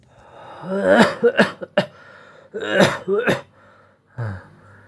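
Several raspy coughs and throat-clearing bursts from an old man, close and fairly loud, in two clusters with a final short cough.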